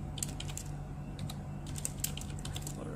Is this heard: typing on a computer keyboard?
yes